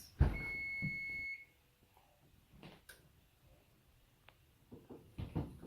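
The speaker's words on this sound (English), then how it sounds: "The alarm's gone off." A single high electronic kitchen-timer beep rings steadily for about a second, followed by quiet clatter and faint scattered knocks.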